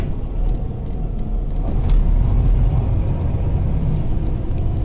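A steady low engine rumble and road drone fill the cabin of a TransWA coach sitting in stop-start freeway traffic on the Kwinana Freeway, continuous and fairly close, with no talking.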